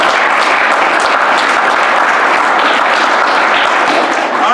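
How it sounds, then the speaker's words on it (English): A round of applause from a gathered audience honoring Michael Pickens: steady, dense, loud clapping that fills the whole stretch evenly without pause, close and continuous. "In his absence, I'd like to give that man a round of applause."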